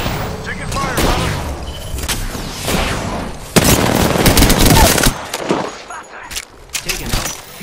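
Rapid automatic gunfire in the shooter game Apex Legends, loud bursts and rattling volleys with sharp cracks, overlapped by in-game character voice lines.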